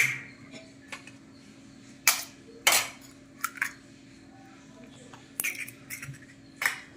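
Two eggs cracked and poured into a pan of frying onions, tomato and curry leaves, heard as sharp clinks and taps of shell and utensil on metal, spaced irregularly, close and moderately loud over a low steady hum.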